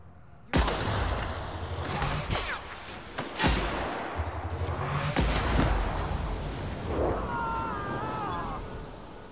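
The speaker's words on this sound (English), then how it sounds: "Took them both out and no one cares, despite the fact there was an explosion as well." Gunfire and an explosion in The Outer Worlds on Supernova difficulty: a sudden loud burst, then several sharp shots and a blast in quick succession, with a rumbling tail and faint game tones afterward.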